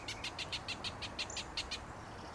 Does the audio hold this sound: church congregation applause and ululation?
no